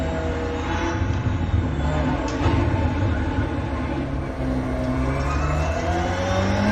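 All-wheel drive rallycross race cars roar past in a sustained, loud engine drone with shifting revs and a steady wash of noise, no talking.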